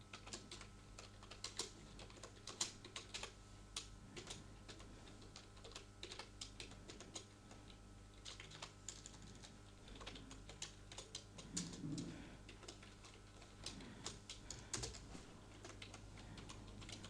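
Soft, rapid typing on a computer keyboard, quick irregular key clicks going on steadily and fairly close, with no talking.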